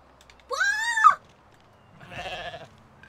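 Goat bleating in the video game Goat Simulator: a loud, wavering bleat close up, then after a pause a second, lower and rougher bleat.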